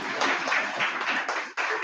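An audience at an international English conference at a government college claps to welcome the principal in a short burst of steady applause with a brief dip near the end.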